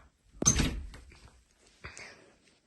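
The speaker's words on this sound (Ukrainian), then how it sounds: "отут відкриваємо двері" A door in a house in Kolonshchyna, Kyiv region, is opened with a sharp thunk and rattle, followed by a softer second knock, close and otherwise quiet.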